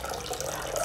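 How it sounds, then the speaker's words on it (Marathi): Fresh dill greens are lifted out of a bowl of washing water in a home kitchen, giving a brief, soft stream of trickling and dripping water. "ह्यातनं शापू काढून घेते पाण्यातनं"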